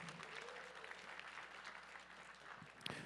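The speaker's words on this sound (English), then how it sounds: "One more round of applause for Angela." Applause from a powerlifting meet audience for a junior women's raw lifter at her award, a steady wash of clapping hands that is fairly quiet and distant throughout.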